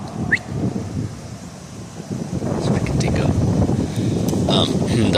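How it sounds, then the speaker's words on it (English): Gusty wind blows outdoors, a steady rough rush that builds and grows louder toward the end, with no other clear sounds. "It's getting a little windy."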